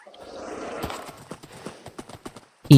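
Clip-clop of horse hooves in Minecraft, a rapid run of hoof taps close by, ending with a sharp louder burst.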